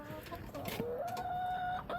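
Chickens cluck in a garage, a close rising cackle and drawn-out hen call heard over low workshop background noise.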